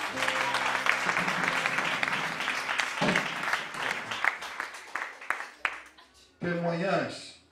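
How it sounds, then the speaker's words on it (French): Church congregation applauding and cheering for Jesus Christ, clapping mixed with loud voices and sustained tones, fading briefly before voices swell again near the end. "Applaudissez pour Jésus-Christ"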